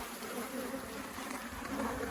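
Honey bees hum around an open hive during an apiary inspection, a steady, dense drone that holds evenly without a break.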